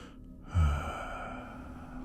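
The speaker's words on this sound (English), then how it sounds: "Like someone breathing just slightly out of sync with you." A single slow, close breath, a soft inhale that swells into a heavier exhale over a low hum, used as an eerie effect in a horror story.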